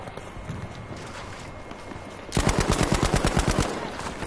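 Rapid sniper and automatic gunfire in Battlefield V, a dense loud burst of repeated shots that erupts suddenly after a quieter stretch of game ambience.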